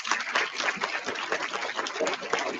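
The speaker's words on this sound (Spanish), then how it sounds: "Damos un agradecimiento nuevamente mediante un aplauso." Audience applause at a school mathematics day event, a dense steady wash of many hands clapping throughout, fairly loud and close, with no speech over it.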